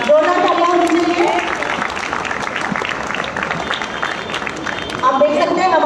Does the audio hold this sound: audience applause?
yes